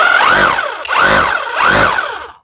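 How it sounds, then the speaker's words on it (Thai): A cordless rotary hammer drill running in chisel mode gives three loud, close bursts of rising and falling motor whine, each cycling up and back down before cutting off. "ตัวนี้เป็นเจาะแยกนะครับ เป็นสกัดนะครับ"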